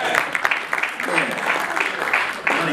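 Applause from an audience at a museum presentation of a 1968 Olympic gold medal in Detroit, a dense steady patter of clapping with voices mixed in throughout.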